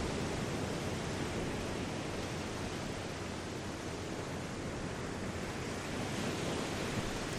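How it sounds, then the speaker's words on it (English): Ocean waves crashing on the shore in a continuous, even wash of surf, a dense broadband roar that holds steady with no voices or other sounds. "Allow the sound of the ocean waves crashing upon your awareness"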